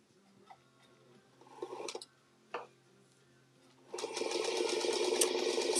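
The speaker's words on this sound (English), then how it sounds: "So I'm just going to sew these two strips together." A sewing machine stitches two fabric strips together, starting with a few faint clicks and short bursts before settling into a steady, fast whirring run near the end.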